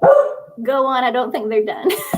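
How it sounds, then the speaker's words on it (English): Pet dogs barking and yipping in short bursts at home, mixed in with a person speaking close by, the barks rising sharply above the voice near the end. "sorry, my dogs."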